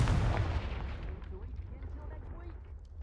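A Confringo fire-spell blast in Hogwarts Legacy opens with a heavy booming burst that trails off into a low rumbling decay, close and fairly loud, with no speech over it.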